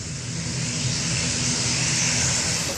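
Engines of a Hercules military transport aircraft of the Indonesian Air Force, a loud steady roar with a broad high hiss, continuous and close, with no voices.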